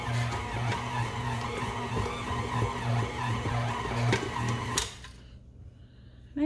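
A stand mixer motor strains and whines steadily while kneading bread dough, running hot enough to smell of burning; the dense mechanical drone holds for about five seconds, then cuts off into near silence.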